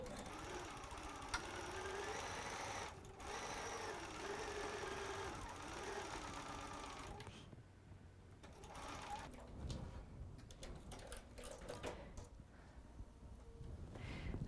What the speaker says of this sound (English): let's go sew that final seam on the lower portion of our gift